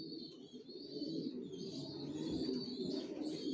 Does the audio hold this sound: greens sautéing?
no